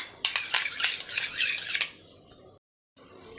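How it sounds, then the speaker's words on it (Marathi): Fresh yogurt and sugar whisked together with a spoon, giving a close run of scraping, clinking strokes for under two seconds before a short quiet stretch. "दोन चमचे फ्रेश दही घ्यायचं आहे छान आणि त्यात आपल्याला टाकायचं आहे एक चमचा साखर हे छान फेटून घ्यायचं आहे"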